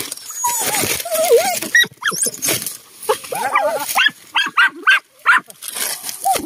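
Hunting dog barks and yelps sharply in bursts while worrying at a rock den in old forest, mixed with rustling and someone speaking.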